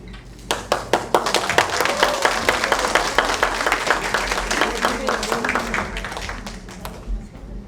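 An audience at a Korean citizens' forum on household waste and incineration facilities breaks into steady, sustained applause, many hands clapping together for several seconds and continuing to the end.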